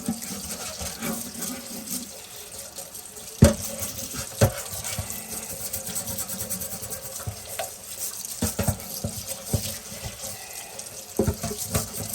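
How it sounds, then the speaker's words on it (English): Vinegar-soaked rusty tools are rinsed under running tap water, a continuous close splash with clinks and knocks as the metal tools are handled. "All right, let's start rinsing here."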